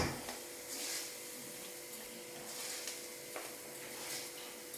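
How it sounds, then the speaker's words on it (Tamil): Roasted nuts being stirred into rava halwa in a pan, giving soft scraping stirs and a faint steady sizzle, quiet and close with a few light strokes and no talking. "வறுத்து வச்சுருக்க நட்ஸை இதோட சேர்த்துக்கலாம். சேர்த்துட்டு நல்லா கலந்துக்கலாம்."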